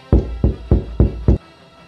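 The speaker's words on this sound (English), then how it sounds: "When you rap on a door, it sounds like this." Five firm, evenly spaced knocks on a door, loud and close, then quiet.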